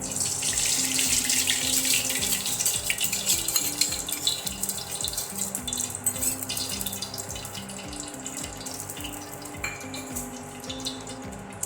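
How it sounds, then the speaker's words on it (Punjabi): Rice being washed under a running kitchen tap, a steady loud rush of water with rhythmic sloshing and swirling of grains in a vessel throughout. "ਸਭ ਤੋਂ ਪਹਿਲਾਂ ਆਪਾਂ ਚੌਲਾਂ ਨੂੰ ਧੋ ਲਵਾਂਗੇ"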